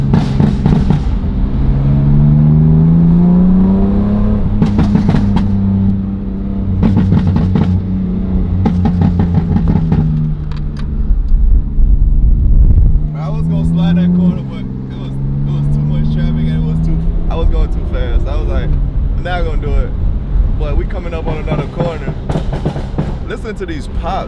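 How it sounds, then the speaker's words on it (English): A BMW M3 Competition revs hard and slides, its engine note rising and falling in loud sweeps punctuated by sharp exhaust pops and crackles, with someone talking over parts of it. "I know how to control this car now."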